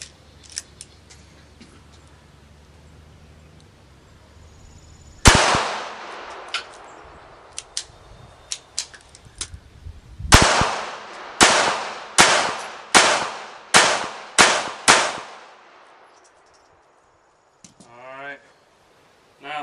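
.380 pistol rounds fired at body armor outdoors: a single loud shot, a pause, then a rapid string of about seven sharp reports roughly half a second apart, with brief talk before and after.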